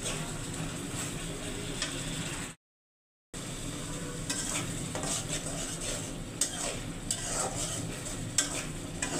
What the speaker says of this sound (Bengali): পেঁয়াজগুলো ভেজে নিয়ে তারপরে আমি এখন মশলাগুলো দিয়ে দেব।